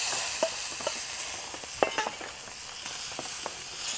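Oil heats in a pan before sardines are fried, giving a steady soft sizzle with scattered sharp pops and crackles and a few light clinks of utensils, close and moderately quiet with no talk.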